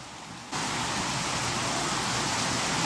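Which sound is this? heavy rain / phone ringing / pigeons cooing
heavy rain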